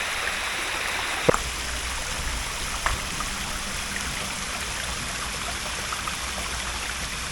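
A small waterfall stream in the Baronda Devi hills gives a steady, even rush of flowing water, broken by two sharp clicks early on.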